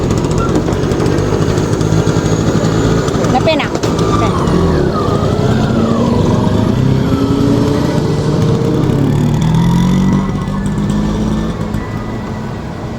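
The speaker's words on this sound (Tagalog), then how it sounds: "Nagturuan kasi kami kung sinong mag-testing ng motor." A Vespa 90cc two-stroke scooter engine is test-run, a loud rough continuous drone with revving pitch changes, while people talk nearby.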